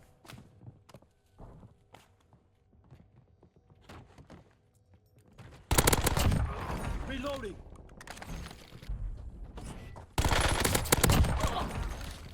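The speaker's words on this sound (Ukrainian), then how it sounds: "Ще хтось стріляє" Quiet clicks and soft steps give way to sudden loud bursts of rapid SMG gunfire in the video game Warzone, two heavy volleys separated by a brief lull, with game effects mixed in.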